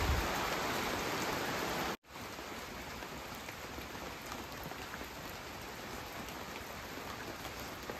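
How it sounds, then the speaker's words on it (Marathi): Heavy rain pours down in a steady, dense hiss, loud and continuous, with a momentary dropout early before the downpour resumes unbroken. "पण भरपूर असा पाऊस यायला लागलेला आहे"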